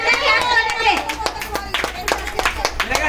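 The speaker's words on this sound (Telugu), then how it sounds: "క్లాప్స్ కొట్టండి చూసే వాళ్ళంతా క్లాప్స్ కొట్టండి బాగా" A few people clap hands at a news event, with scattered uneven claps mixed with voices and someone speaking nearby, thin and irregular rather than full applause.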